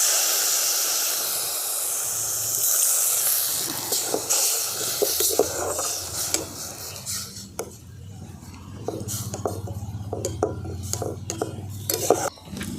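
A bowl of water hits a hot pan of peas snack mixture, starting with a strong, steady hiss and steam that fades into scattered clinks and scraping of a utensil against the pan.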